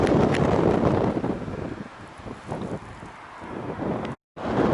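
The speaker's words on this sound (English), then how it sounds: "Cold and windy today" Cold wind gusting loudly over a lakeside in Snowdonia, buffeting the microphone in broad rumbling roars that ease in the middle and surge back, with a brief cutout near the end.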